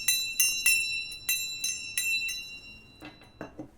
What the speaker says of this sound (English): I just feel guided to ring this bell.